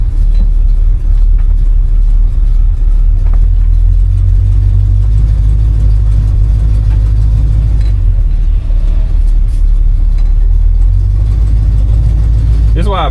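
An Oldsmobile 455 V8 in a 1971 Oldsmobile Cutlass rumbles steadily up close, a deep loud idle with slight swells, heard from inside or beside the car.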